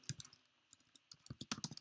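Brisk typing on a computer keyboard while writing SAPUI5 code: irregular clusters of sharp key clicks, close and fairly quiet, with short pauses between bursts.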